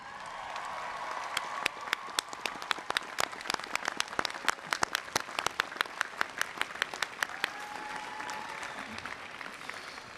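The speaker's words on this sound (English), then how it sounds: "please rise and applaud the recipients" Audience at a Rice University commencement rises and applauds the Wheelwrights College degree recipients, with distinct, fairly close hand claps over a softer crowd applause, a voice faintly audible underneath.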